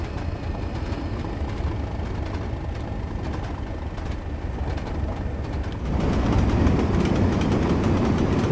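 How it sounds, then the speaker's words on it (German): A train in the Train Sim World 2 game, on the Tees Valley Line, rushes past a station platform with a loud, steady rumble and rail clatter that swells louder partway through. "Vorbeirauschen am Bahnhof, am Bahnsteig."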